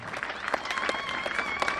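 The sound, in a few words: audience applauding the graduates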